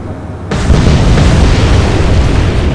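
A torpedo strikes a ship in the naval game Atlantic Fleet, setting off a sudden, loud deep boom that swells into a sustained roaring rumble and holds steady to the end.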